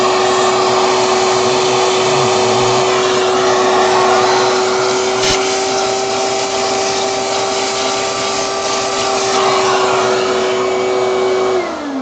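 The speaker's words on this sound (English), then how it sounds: "keep vacuuming just to keep the work area clean" A vacuum cleaner running steadily and loudly up close while cleaning a Gigabyte Windforce GTX 970 graphics card, a constant whining drone with a sharp click midway and the pitch dropping as it winds down at the end.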